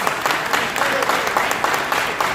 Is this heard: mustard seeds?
no